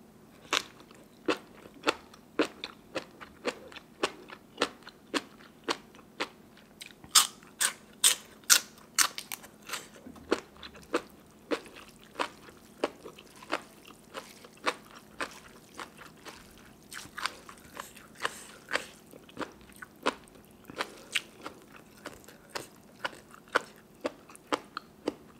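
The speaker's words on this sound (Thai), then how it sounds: "แมงกะพรุนเคี่ยวกรุบกรุบกรุบแซ่บ" Someone chews a crunchy, spicy Thai jellyfish salad close up, giving a long run of sharp, crisp crunches in a steady chewing rhythm, with denser bursts of bites partway through and no talking.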